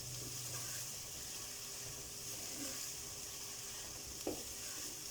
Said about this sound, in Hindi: ये हमारा प्याज फ्राई हो रहा है अच्छी तरह।